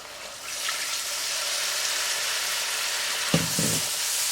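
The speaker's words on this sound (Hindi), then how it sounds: "पानी डाल रही हूँ।" Water poured into sizzling masala for an egg curry, a steady frying sizzle that flares with a brief splash and burst of bubbling as the water hits the hot pan.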